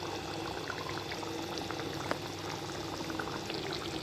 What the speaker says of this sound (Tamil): ஒரு ஏழு எட்டு முந்திரி பருப்பு அரைச்சி வச்சுருக்கேன் அதை இதில் ஊற்றிக்கணும்